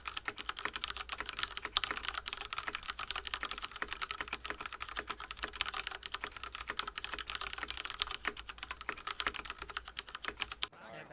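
Fast, steady typing on a mechanical keyboard fitted with linear Cherry MX Red switches, a dense stream of light close clicks from keys bottoming out, continuing evenly before stopping abruptly.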